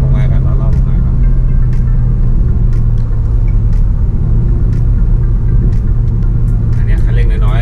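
Car engine revving hard at full throttle during ECU remap tuning, a loud continuous low rumble with steady drone throughout, no talk.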